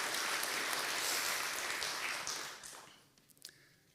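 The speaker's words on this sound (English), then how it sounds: "please give him some applause" Audience applause at a network operators' live-streamed event, a steady wash of many hands clapping at moderate distance that fades out over the last second with a few stray claps.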